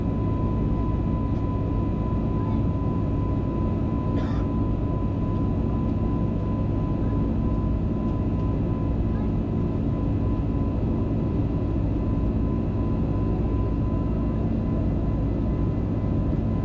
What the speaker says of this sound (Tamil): இன்ஜின் ஆக்சிலரேட் ஆகிற சவுண்ட் நல்லா கேட்கும் உங்களுக்கு.